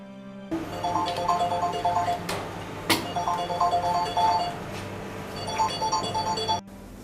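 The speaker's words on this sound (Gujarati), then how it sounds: "સારું હું ફોન કરું છું અને તને મૈત્રી જોડે વાત કરાવું છું" A phone rings with a repeating electronic ringtone, its short melodic bursts looping loud and close for several seconds before cutting off, with no talk over it.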